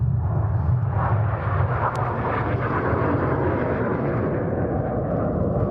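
Red Arrows jets roar overhead during the Twister manoeuvre at an airshow, a loud, sustained, broadband engine rumble that holds steady throughout with no voices.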